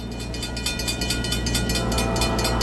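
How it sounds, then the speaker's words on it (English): Norfolk Southern 30T freight train on the D&H line rolling past at over 40 mph, a loud steady roar of wheels and rail noise with rhythmic clatter throughout. "This train was running max authorized speed of over 40 miles per hour."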